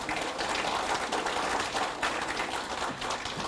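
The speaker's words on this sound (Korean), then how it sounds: "큰 박수로 맞이해 주십시오." An audience at an academic conference gives a continuous round of fairly faint applause to welcome a speaker to the podium, a dense wash of many hands clapping with no talking.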